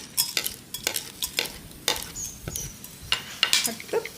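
Black pepper drops into hot oil in a pan over a lowered flame, giving a light crackling sizzle broken by sharp spoon-and-pan scrapes and taps in an irregular rhythm.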